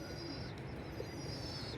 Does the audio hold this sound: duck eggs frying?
no